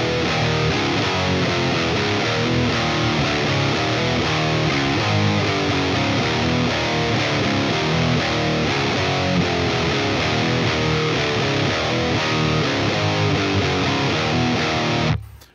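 A heavily distorted electric guitar in drop D tuning chugs through a dense, rhythmic metal riff, loud and steady for about fifteen seconds before cutting off abruptly.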